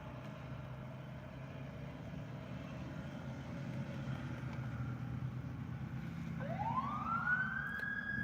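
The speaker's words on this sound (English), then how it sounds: "Another siren." An emergency vehicle siren rises out of distant traffic rumble late in the clip, one clear rising wail growing louder as it passes fairly close over a steady low background hum.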